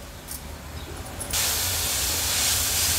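Mushrooms sautéing in a pan over a medium flame, a soft crackle that suddenly rises into a loud, steady sizzling hiss partway through.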